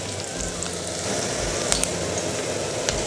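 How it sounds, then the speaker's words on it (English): Chopped onion sautés in a pan over medium heat with a steady, close sizzle and a few small pops and spatters throughout. "So after adding your onion, you saute for about 2 minutes"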